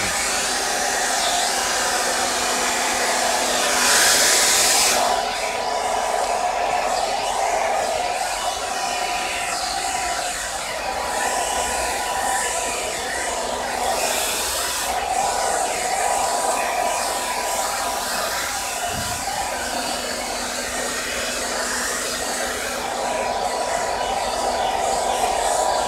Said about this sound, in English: Blow dryer going.